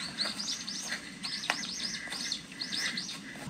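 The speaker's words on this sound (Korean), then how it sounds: "새소리가 정말 예뻤어요." Small birds sing on a mountain ridge trail between Jujaksan and Deokryongsan in southern Korea, repeating bright, quick chirping phrases in short bursts over a quiet background.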